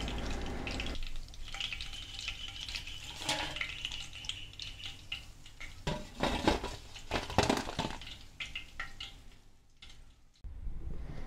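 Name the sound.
chicken pieces deep-frying in oil in a pan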